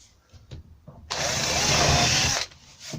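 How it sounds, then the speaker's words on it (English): A power drill runs in one steady burst of about a second and a half, cutting a generous countersink for a screw in an oak door frame, loud and close, with quiet handling before and after. "So what I'm doing is generous countersink"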